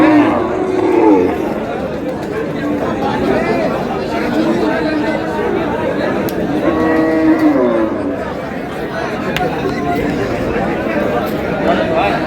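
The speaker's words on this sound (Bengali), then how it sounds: "মাংসের গরু।" Beef cattle, mostly cows, mooing at a busy livestock market in Aftabganj, with crowd chatter and bargaining voices running throughout and several low moos rising above the din.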